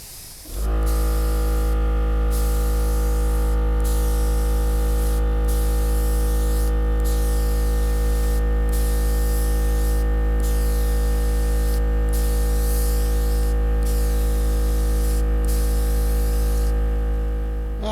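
A cheap spray gun lays a coat of clear onto a gas tank, a loud, steady hissing spray in repeated bursts with short pauses between passes, over a constant low compressor hum.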